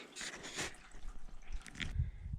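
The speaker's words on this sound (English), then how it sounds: "I can hear the water running out of the eave troughs down the downspouts" Melting snow water runs from eave troughs down downspouts, heard as faint, irregular drips and soft trickling splashes close by.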